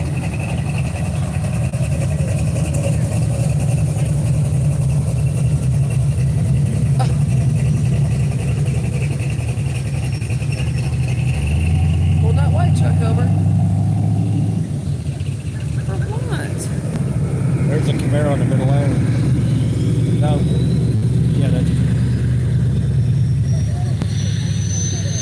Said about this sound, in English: Here, listen to this truck.